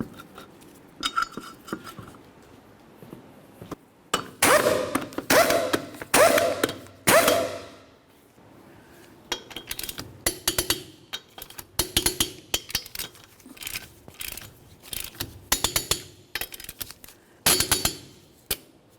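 Wrench clicking and ratcheting on 19 mm lug nuts of a 2004-2010 Chevrolet Cobalt wheel, sharp metallic clacks in irregular bursts and clusters, close and fairly loud with quiet gaps, no talk.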